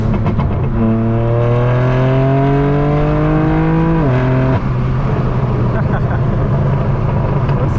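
A BMW M4 F82 accelerates hard on a highway, its engine note climbing steadily through a gear, dropping at a shift, then settling into a loud cruising drone, up close with no voices.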